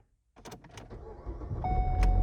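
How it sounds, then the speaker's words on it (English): A Ford car with the MyKey system cranks and fires up on its key, a few starter clicks leading into an engine catching and rising to a steady idle, with a chime tone near the end, close and fairly loud. "Now to test the key, we're going to take it out and then put it back in and try and start the car."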